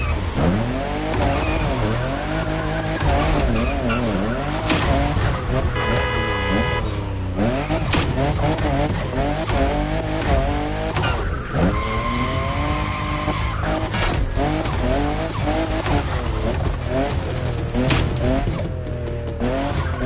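A fifth-generation Toyota Supra drifts in The Crew Motor Fest racing game, with loud, sustained tire squeals and skidding over an engine whose pitch repeatedly rises and falls with revving and gear changes, close and continuous for the full length.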